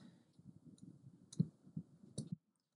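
Several crisp mouse clicks scattered over a few seconds of a laser-cut family tree design session, quiet and close, with a soft low murmur of room noise beneath.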